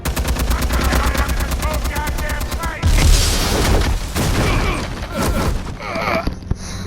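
Rapid automatic gunfire in a Batman video game, loud and close, with a fast regular rattle followed by heavier booming shots and scattered bursts, with voices talking over parts of it.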